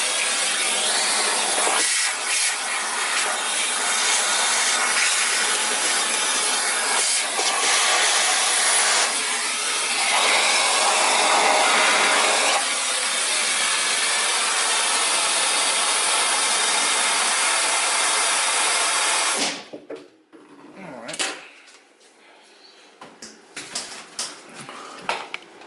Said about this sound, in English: the best way to clean that up, as always, is with another vacuum.